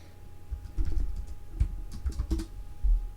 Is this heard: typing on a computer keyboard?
yes